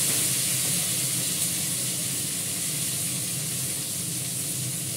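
Nigella seeds fry steadily in hot oil in a pan, giving a continuous close sizzling hiss that stays even and unbroken throughout, with no voices over it.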